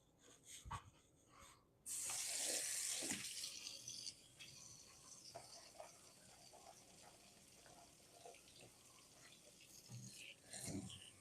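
Water runs from a kitchen tap into a sink while a strainer is rinsed under it, a hissing spray that starts abruptly, stays moderate for a couple of seconds, then fades to a faint trickle with scattered clatters.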